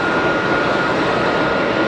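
An Airbus A320 with long sharklet winglets sits lined up for departure at Geneva Airport, its jet engines making a continuous, even rushing hum at fairly close range, alone and unbroken.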